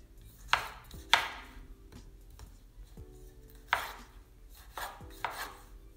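A knife chops tomatoes into thick pieces on a cutting board, five sharp, distinct close cuts spaced unevenly, with quiet pauses between them.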